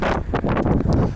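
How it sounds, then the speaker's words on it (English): Wind buffets the microphone outdoors on a car lot beside a 2022 Infiniti Q60S Red Sport, a steady broadband rush with gusty surges throughout, loud and close, with no speech. "Ooh, it's windy."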